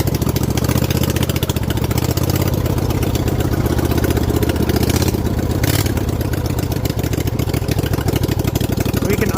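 A lawn mower converted into a mud mower runs loud and close, its small engine idling with a steady, rapid throbbing that holds even throughout.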